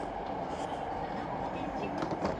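A train rolling along the rails in Japan, heard from inside the carriage as a steady, dense rumble with a faint clatter of wheels running throughout.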